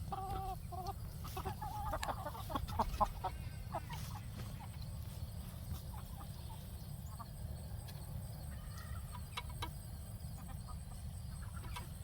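Chickens in a newly merged flock cluck softly in bursts over the first few seconds, then scattered calls over a steady low rumble, all faint and at some distance.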